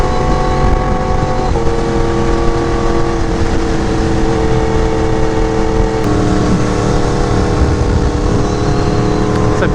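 The engines of Yamaha R1M and BMW S1000RR sport motorcycles drone loudly and steadily while riding, mixed with strong wind rush and shifting engine tones.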